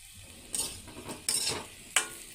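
Papaya pieces frying and being stirred in a pan, with three distinct, close bursts of scraping and sizzling spread evenly over a soft background hiss.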